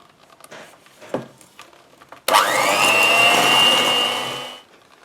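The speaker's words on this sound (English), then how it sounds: "I'm going to mix this until it's light and fluffy" An electric mixer beats softened margarine until light and fluffy. After a few light knocks it starts abruptly, whirring loudly and steadily for about two seconds before winding down.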